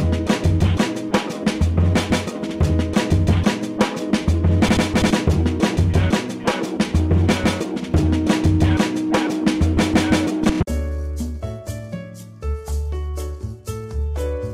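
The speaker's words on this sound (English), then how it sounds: "Here's what the chopped drums and the gross beat sample sound like together." Chopped, stuttering drums play together with a glitched musical sample for about ten seconds, then the beat thins out to sparse synth notes; no voices.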